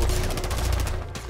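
A rapid burst of hip-fired gunfire in Rainbow Six Siege, a dense rattle of close, loud shots in quick succession that stops abruptly near the end.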